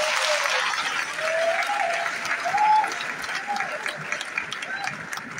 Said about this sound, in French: Je voudrais qu'on les acclame très fort, s'il vous plaît.